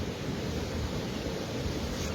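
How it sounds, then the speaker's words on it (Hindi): A river confluence of the Seti Gandaki and Madi rivers at Damauli, Nepal, gives a steady, loud broadband rush of flowing water, continuous for the whole stretch with no talking. "यही नदी है"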